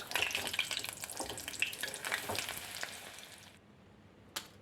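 Mulaku bajji, batter-coated chili fritters, crackle and sizzle in hot oil with steady dense bubbling that cuts out near the end, followed by one brief clink.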